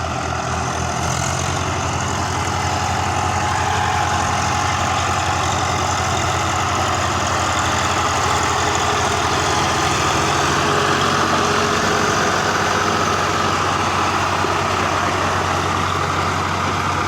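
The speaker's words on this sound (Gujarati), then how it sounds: "આપણે ટ્રેક્ટર ચડી ગયું છે અને હવે આ ટ્રેક્ટરનું ટોચિંગ છોડવાનું છે" Tractor engine labouring steadily as it hauls a trolley loaded with about 350 maunds of maize up a slope, a loud continuous low drone with no pauses.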